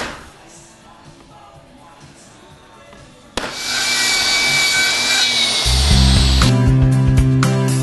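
Western red cedar cladding being trimmed for a garden room: quiet ambience, then a loud sudden burst of continuous power-saw cutting through wood with a whining tone, grinding on close and steady.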